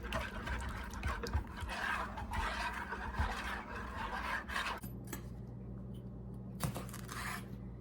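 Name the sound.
whisk mixing fondue sauce with ginger in a bowl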